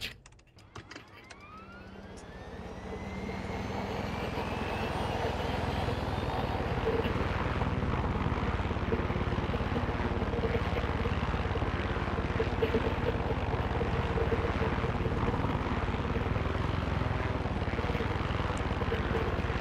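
Helicopter in Far Cry 6 spooling up and then flying, a loud continuous rotor and engine drone that builds over the first few seconds and holds steady, with people talking over it.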